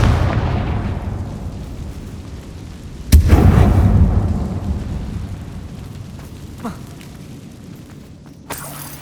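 A Confringo fire spell explosion in the video game Hogwarts Legacy: a sudden loud boom after about three seconds, rumbling and decaying, with a couple of smaller bursts later over steady background noise.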